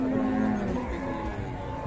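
A cow gives a low, drawn-out moo at a busy Indonesian livestock market in Pati, with steady crowd noise and engine rumble behind it.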